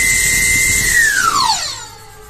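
A high-speed electric scooter motor, a 48-volt EV scooter running with its speed controller bypassed, whines at a steady high pitch that then sweeps downward as it winds down, loud and close with no talking.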